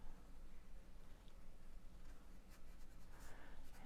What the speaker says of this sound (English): I'm drawing.